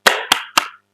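Three crisp hand claps in an even rhythm, close and loud, each snapping out sharply and decaying quickly into silence, from a children's clapping chant for Al-Fatihah.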